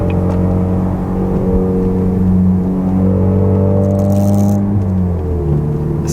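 Loud, steady idle of a 2016 Chevrolet Camaro RS 2.0-liter four-cylinder with its exhaust in loud mode, a deep continuous drone with slight shifts in pitch and no voices over it.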